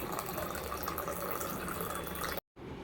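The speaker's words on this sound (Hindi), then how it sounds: "तो हमारा पानी हो गया है बॉयल।" Water with cumin and ajwain boils in a pot on a home stove, giving a steady, dense bubbling hiss that runs on and then cuts off abruptly.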